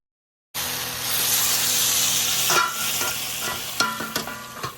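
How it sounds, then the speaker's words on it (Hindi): Ridge gourd curry sizzles steadily in a hot pan while a spoon stirs it, with a few sharp scraping clicks of the utensil against the pan near the end and no talking. "इसमें बना रहे हैं तोरी की सब्जी"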